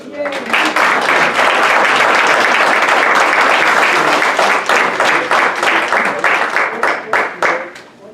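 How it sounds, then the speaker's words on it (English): Loud, close applause fills a town council meeting room, many people clapping steadily for several seconds before it thins out and tapers off at the end. "A round of applause for us."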